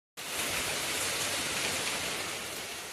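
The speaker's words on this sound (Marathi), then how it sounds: "पाऊस पडलो की कसा एकदम थंड थंड लागता." Sudden rain pours down in a Konkan village, beginning abruptly after a brief silence and then holding as a dense, even hiss of drops on surfaces.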